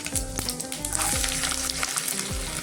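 Garlic frying in hot oil for a dhaba-style urad dal tadka: a steady close sizzle with scattered crackles and a few soft stirring knocks.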